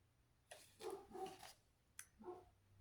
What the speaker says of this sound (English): Y'all can probably hear my dog barking outside.